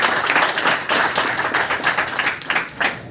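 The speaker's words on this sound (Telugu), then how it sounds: "great clap sir" A seated crowd at a meeting breaks into loud applause, dense overlapping claps that swell and dip in waves for a few seconds, close and full, with no voice over it.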